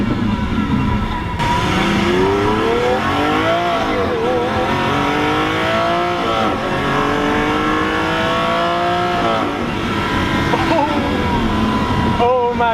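A Lamborghini Aventador with a single-clutch gearbox revs and pulls hard from inside the cabin, engine pitch climbing in repeated surges between shifts, loud and continuous with a voice talking over it.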